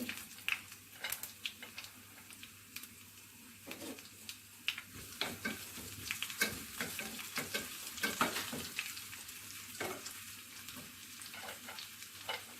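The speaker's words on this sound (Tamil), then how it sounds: "ஜீரகம் பொரிஞ்சோடனே கருவேப்பிலை, இஞ்சி," Cumin, curry leaves and ginger fry in hot ghee for a pongal tempering, giving a crackling sizzle with irregular pops and brief stirring scrapes, close and alone.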